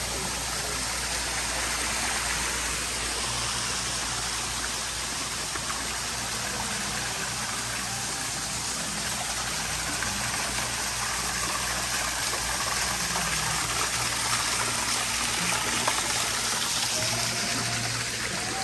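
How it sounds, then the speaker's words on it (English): Steady broadband rush of waterfalls at Rock City on Lookout Mountain, Georgia, a constant close roar of falling water that lasts throughout without voices. "Gotta love the waterfalls."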